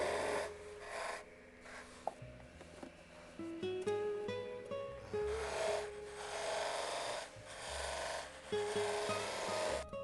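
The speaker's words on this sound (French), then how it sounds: "Alors maintenant, on va passer au ponçage. Alors là, je vais enlever les rayures." Steady rasping and rubbing of sandpaper on a wooden tobacco pipe to take out scratches, continuous and fairly close, with music playing underneath throughout.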